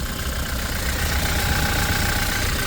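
A 2019 Toyota Innova Crysta 2.4 diesel engine idles steadily close by, a continuous low diesel rumble with a faint knocking texture and no voices.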